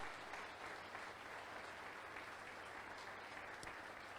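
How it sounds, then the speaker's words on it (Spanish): Church congregation applauding together during a worship service, a steady, quiet wash of clapping that continues throughout with no pauses and no voices above it. "Denle un aplauso al Señor"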